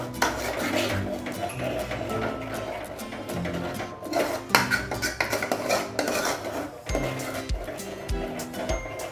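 A spice masala for a harbhara (green chickpea) dish is stirred and sautéed in a pan, with repeated metal spoon scrapes and clinks against the pan over a low sizzle and faint music beneath.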